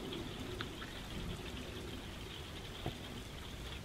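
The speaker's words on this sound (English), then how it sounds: "You can even hear the raindrops from here." Soft, steady patter of light rain on an RV with a few faint drips, quiet and continuous, no voices.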